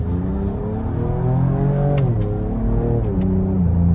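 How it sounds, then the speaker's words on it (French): A Ford Ranger Raptor V6 pickup accelerating, its engine note rising loud and close with gear shifts as it climbs, heard from inside the cabin. "Allez, une petite accélération."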